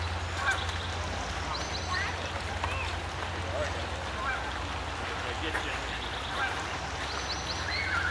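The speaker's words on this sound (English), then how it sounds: "What an interesting bird." A goose-like bird honks repeatedly over a steady low rumble of water or an engine, the calls moderately close and recurring throughout.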